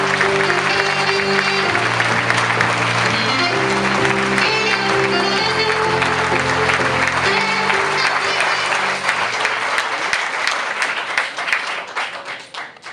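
A crowd at a Georges Ferrero campaign rally claps to welcome him, a dense, sustained wall of applause over background music that thins out and fades in the last few seconds.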